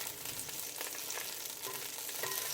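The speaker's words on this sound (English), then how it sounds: "That's the butter getting melted." Butter melts in a hot pan with a steady close sizzle and crackle. The sound stays constant and fills the short moment, with faint stirring scrapes and no talking.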